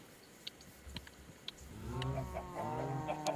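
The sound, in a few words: chicken clucking in video game Minecraft modpack Enigmatica 2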